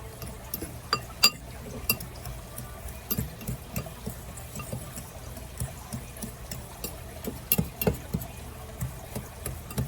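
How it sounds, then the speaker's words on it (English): Fork whisking raisin pie filling in a bowl, a quiet run of rapid, irregular clinks and taps against the dish, steady for several seconds with no talk. "we are going to just whisk this up together with a fork"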